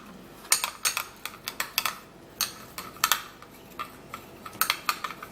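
Vaseline and coconut being stirred together in a bowl, giving a steady run of sharp scraping clicks and taps from the utensil, close and fairly loud with no talk.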